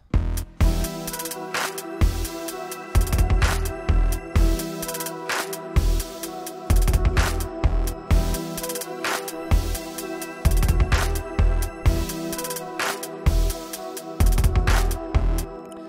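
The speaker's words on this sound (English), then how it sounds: "That trippy pad with everything else sounds like this." A full electronic track plays with punchy rhythmic hits over a swirling, wavering synth pad that hovers throughout.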